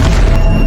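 A loud, close explosion from a war film, a dense, rumbling boom that fills the whole short moment.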